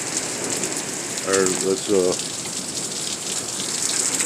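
Heavy rain pours down during a nighttime tornado-warning storm, a loud, steady hiss close at hand, with a voice speaking briefly over it.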